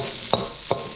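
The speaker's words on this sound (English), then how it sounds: "Stir it up to mix it." Beef and vegetables in fried rice with a poached egg are stirred in a sizzling pan. Two quick scraping stirs cut through a close, steady frying hiss.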